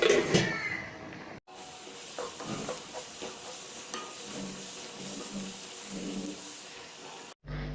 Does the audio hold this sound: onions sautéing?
yes